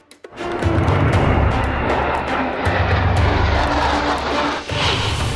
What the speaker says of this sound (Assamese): মৰাণৰ আকাশত সুখয়, ৰাফেল, তেজছ, হাৰকিউলিছ সহ 16খন যুঁজাৰু বিমান